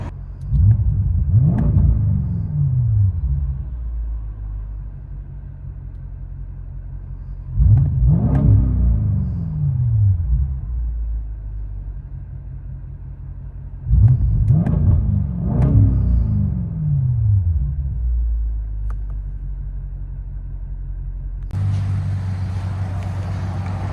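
Interior sound of a 2021 BMW M850i with a 4.4L twin-turbo V8, X-pipe and straight pipes: three loud revving bursts a few seconds apart, each sweeping up then settling to a deep idle rumble.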